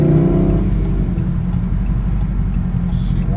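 A supercharged Dodge Hellcat with a lower pulley upgrade idles and revs nearby, a deep steady rumble with supercharger whine running underneath throughout.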